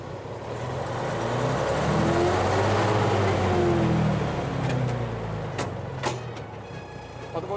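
A large early Polish-built truck drives along, its engine rising to a loud, sustained drone and then easing off as gears are shifted, with a few clunks near the end.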